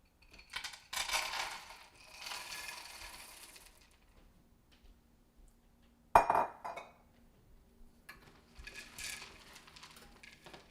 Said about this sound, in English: we got the white chocolate going in